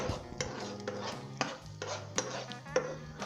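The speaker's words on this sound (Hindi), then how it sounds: "दोस्तों लहसुन डालने के बाद हमने इसे इसका कच्चापन दूर करना है और इसका जो फ्लेवर है ऑयल के" Garlic cooking in oil in a pan while a spoon stirs and scrapes, with a faint sizzle and sharp periodic clinks against the metal, close and without talk.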